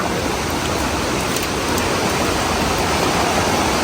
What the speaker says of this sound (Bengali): বৃষ্টি হচ্ছে কতক্ষণ ভিডিও করতে পারবো জানি না